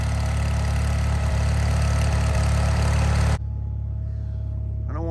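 An old 448 garden tractor engine runs steady and loud while pushing snow with a plow, then its note drops abruptly to a lighter, quieter running tone near the end, with a brief higher whine at the close.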